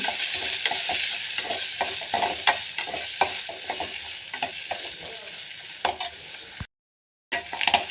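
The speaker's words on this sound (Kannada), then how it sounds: "ಹಸಿಮೆಣಸಿನಕಾಯಿ, ಈರುಳ್ಳಿ ಇದನ್ನು ಚೆನ್ನಾಗಿ ಫ್ರೈ ಮಾಡೋಣ." Green chillies and onions frying in a pan for a chapati side dish, a continuous bright sizzle with frequent stirring scrapes, close and steady, briefly cut off near the end.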